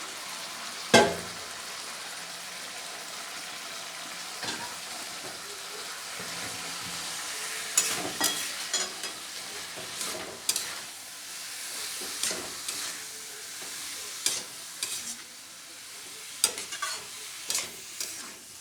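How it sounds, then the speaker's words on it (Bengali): Grated papaya, added for a papaya ghonto with prawns, fries in oil-released spiced masala, sizzling steadily under repeated scraping stirs of a spoon in the pan, close and clear, with a sharp clink near the start. "এবার আমি গ্রেট করে রাখা পেঁপেটা দিয়ে দেবো।"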